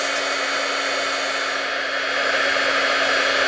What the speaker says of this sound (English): You are going to hear a little bit of embossing